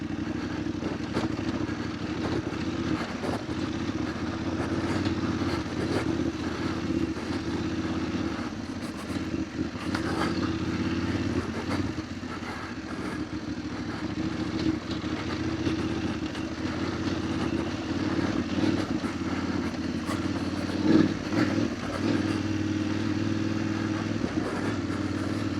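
A motorcycle rides steadily along the rocky, slippery Hornby Road trail over Salter Fell, its engine droning loud and constant, with occasional clatter from the rough ground.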